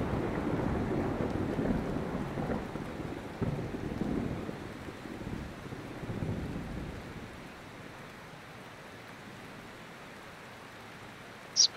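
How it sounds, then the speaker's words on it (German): Thunderstorm in a forest in the Mount & Blade 2 video game: steady heavy rain and wind with low rolling thunder swells through the first half, then a quieter rain wash and a brief sharp tick at the end. "Oh, im Wald, bei Gewitter."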